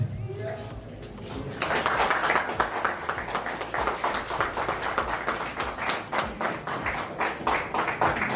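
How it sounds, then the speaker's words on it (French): Wedding guests in a wedding hall stand and break into loud, sustained applause. Dense clapping starts after a short pause and carries on steadily to the end. "Sous vos applaudissements, s'il vous plaît."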